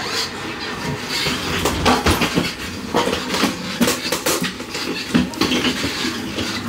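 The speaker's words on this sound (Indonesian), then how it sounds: "Oke, kita boarding naik kereta." A passenger train in Uzbekistan rumbles and clatters along the tracks, heard from inside a carriage as a steady loud roar with rhythmic knocks and occasional rattling of loose items.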